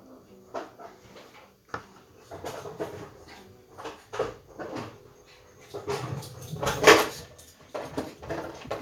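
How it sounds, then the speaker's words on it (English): A dog tears through a house with a plastic bottle, making irregular clattering, crinkling knocks and scuffs that come in bursts and grow busier toward the end, heard at moderate loudness indoors. "that's the sound of my dog ripping through the house with a plastic bottle"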